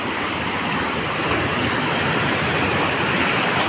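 Daporijo waterfall roars as a dense, unbroken wash of falling water, loud and steady from start to finish with no voices.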